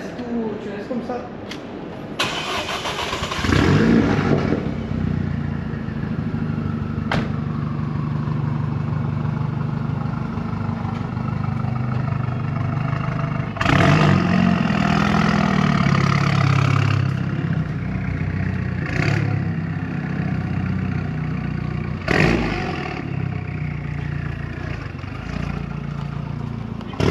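A Renault Megane RS engine cranks and fires into a deep, steady idle, then revs sharply in two loud bursts that settle back to idle, with people talking nearby throughout.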